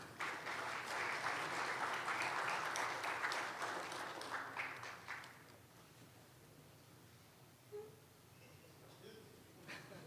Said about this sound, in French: Monsieur Diogène, sous vos applaudissements